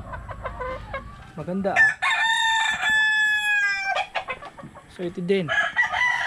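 Chickens cluck in quick choppy bursts and a rooster lets out a long, loud drawn-out crow in the middle, while someone talks over the flock nearby.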